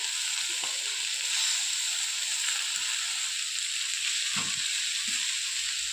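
Malabar spinach goes into a frying pan for a chachchori with dried Bombay duck. A steady hissing sizzle carries throughout, with a few soft thuds and stirring sounds near the end.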